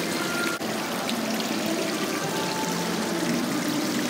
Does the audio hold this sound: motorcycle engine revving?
no